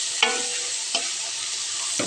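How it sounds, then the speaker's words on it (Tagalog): Sautéed string beans (sitaw) being stirred in a hot pan for a coconut-milk vegetable dish, a steady close sizzle with three distinct scraping stir strokes spaced about a second apart. "Ito yung uunahin natin, yung sitaw, kasi matigas po siya. Kaya haluin natin."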